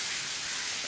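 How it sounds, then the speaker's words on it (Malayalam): Heavy rain falls steadily outdoors at a wooded plot, a dense continuous hiss of drops with no voices over it. "അപ്പം നല്ല മഴയാണ് ഗൈസ്"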